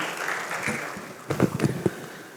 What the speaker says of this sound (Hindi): इसके लिए एक बार और ज़ोरदार तालियां बजा के स्वागत करें।